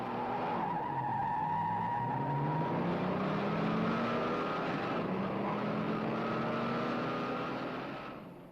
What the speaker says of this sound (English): Look at the way the 396 moves out to an early lead and holds it right through the run.